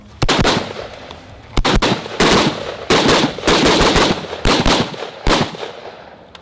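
AR-15 rifle firing outdoors in loud bursts of rapid shots, several strings of quick semi-automatic gunfire separated by short pauses, sharp and close with no talking.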